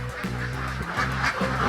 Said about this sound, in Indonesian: Bebek-bebeknya masih malu-malu kamera.